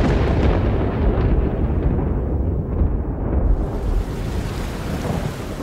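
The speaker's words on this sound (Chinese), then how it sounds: "打雷了，这都下雨了" Thunder rumbles loud and close through steady heavy rain during the rainy season in a riverside stone-collecting area, a continuous roar with a deeper rolling swell midway, no voices.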